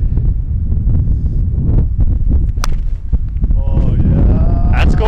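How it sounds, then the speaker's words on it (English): Strong gusting wind on a golf course, buffeting the microphone in loud, continuous low roars and thumps, with faint voices nearby. "Got sense the wind just came up out of nowhere"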